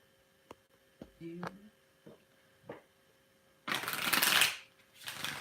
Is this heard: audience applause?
no